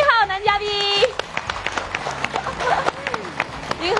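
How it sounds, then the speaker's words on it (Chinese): A studio audience at a televised Chinese matchmaking show breaks into applause, a burst of scattered clapping that follows a brief spoken line. "掌声有请一号男嘉宾"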